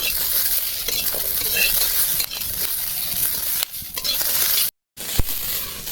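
Dried and green chillies frying in a pan, loud close sizzling with scraping stirring strokes throughout, broken by a brief silence near the end.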